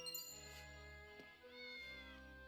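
A cat meows in the video game Triangle Strategy, a couple of clear, close, drawn-out mews with gliding pitch heard over a steady, sustained in-game musical backdrop, with no talking.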